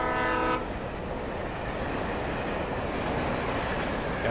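A train rolls past in the video game Alan Wake, with a steady loud rumble and rattle sustained throughout and a brief horn-like tone at the very start.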